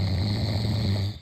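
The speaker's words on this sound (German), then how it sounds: "Ich muss jetzt ihm sagen, dass er schnarcht." A man snoring in Berlin, a loud, close, steady rasping drone with no talk.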